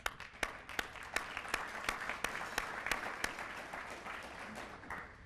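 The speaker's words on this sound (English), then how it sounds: "everybody in the room deserves a round of applause for your efforts" Conference attendees at an opening general session break into applause: a few sharp, distinct claps lead into a steady wash of many hands clapping at moderate volume, gradually thinning toward the end, with no talking.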